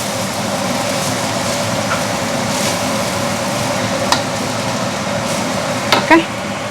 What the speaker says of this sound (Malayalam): എടുത്ത മൊത്തം റൈസ് ഇട്ട് ഇങ്ങനെ ഇളക്കി കൊടുത്തുകൊണ്ടിരിക്കുക കേട്ടോ.